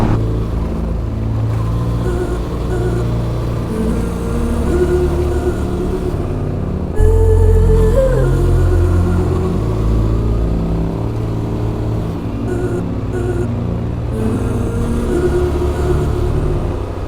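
A Yamaha Tenere 700 Extreme motorcycle rides along a woodland track, its engine droning steadily with a low rumble and a few shifts in pitch, close and continuous throughout.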